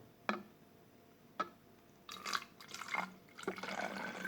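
Short clicks and splashes, then clean water gurgling and splashing steadily as it is poured into a bottle, close by and fairly quiet.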